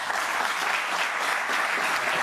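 Studio audience applause, steady and dense clapping at moderate loudness, sustained throughout with no talking on top.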